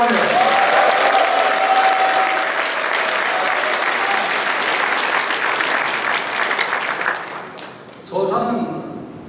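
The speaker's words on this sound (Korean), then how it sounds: "박수 한번 보내주시기 바랍니다." At a People Power Party members' convention in South Chungcheong, a crowd breaks into sustained, loud applause that gradually thins out, followed by a person speaking over a hall microphone.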